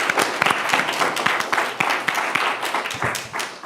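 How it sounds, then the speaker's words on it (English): Applause from members at an Iowa State Student Government senate meeting, a steady patter of many hands clapping nearby for a few seconds. "I want all of us to give ourselves a round of applause"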